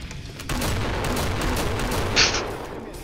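Video game gunfire as players shoot blindly at zombies in Killing Floor, a dense continuous barrage of shots with a brief louder burst near the end.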